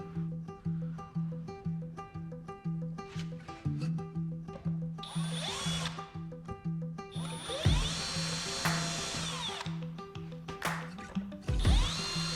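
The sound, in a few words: power drill driving screws into crosscut sled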